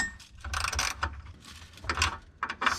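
Ratchet wrench clicks in quick bursts while tightening a nut onto a Suzuki Samurai shock absorber, close and crisp, several short runs of rapid pawl clicks separated by brief pauses.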